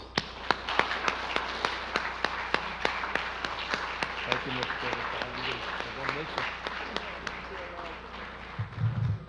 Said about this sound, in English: for all of us to give her a round of applause